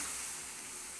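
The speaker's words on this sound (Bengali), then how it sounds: "এই গরম জলটা এর মধ্যে দিয়ে দিলাম" Hot water hitting roasted semolina in a pan gives a loud, continuous steamy hiss that holds steady and fades only slightly over a second.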